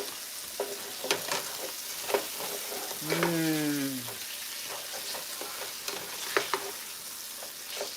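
Turkey taco filling with sauce sizzles steadily in a pan while a utensil scrapes and clicks through it, with a brief sliding tone rising and falling midway.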